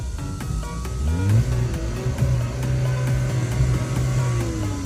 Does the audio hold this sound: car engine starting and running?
yes